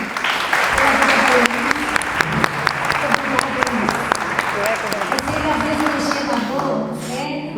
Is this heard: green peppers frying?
no